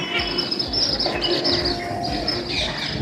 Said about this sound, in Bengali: পাখির আওয়াজ পাখির কাকুলিতে ভরে গেছে